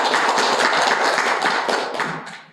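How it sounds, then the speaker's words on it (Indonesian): An audience at a university lecture session applauds with dense, close clapping that holds steady, then thins out and fades over a couple of seconds, with no talking. "Beri aplaus dulu untuk masing-masing penanya ya"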